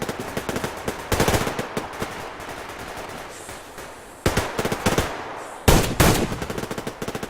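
Rapid automatic gunfire in the online shooter Survarium, loud bursts of machine-gun fire with short pauses between volleys, close and continuous throughout.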